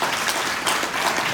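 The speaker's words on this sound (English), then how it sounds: "can we give another round of applause for our panel and Pittsburgh?" Brief burst of steady applause from a seated audience for a panel at a community event, many hands clapping close and loud for just over a second.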